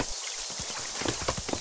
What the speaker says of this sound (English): Oh, rain. I hate the rain.